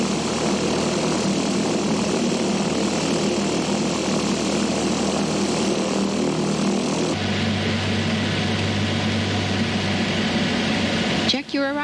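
A propeller airplane engine drones steadily in flight while approaching Modesto Airport, a loud, continuous hum that shifts in tone partway through, with a brief disturbance at the very end.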